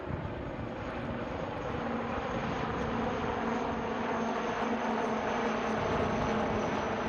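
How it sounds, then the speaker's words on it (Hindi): Indian Navy Kamov 31 helicopter passing during a fly-past at Miramar, Panaji, Goa: a steady, loud rotor and engine roar that holds level throughout, with no voices over it. "आ रहे हैं आपकी बाईं ओर से नौसेना के आई in the sky the falcon Kamov 31 helicopter"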